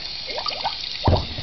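A brief gulping drink sound effect played from an iPhone app, a few quick bubbly liquid glugs, faint and thin through a small phone speaker.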